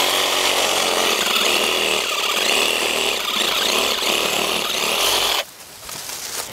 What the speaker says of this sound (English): I'm gonna get my sawzall.